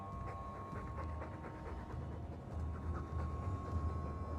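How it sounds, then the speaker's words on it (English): A dog pants steadily in the video game Dragon Age II, a continuous breathy rasp heard fairly close under a low rumbling background hum, with no voices. "All that noisy dog breath, day in, day out."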